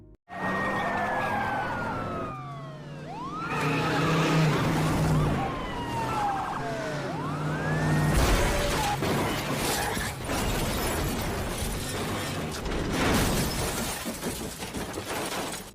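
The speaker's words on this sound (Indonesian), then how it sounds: "seketika mobil penjahat itu berhasil dilumpuhkan dan jempalik" A criminals' car chase ending at a roadblock in a TV series, with police sirens wailing and sweeping throughout, then a burst of crashing, crunching and shattering as the car skids and overturns, loud and busy.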